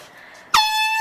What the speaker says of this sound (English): can I have my air horn thing back?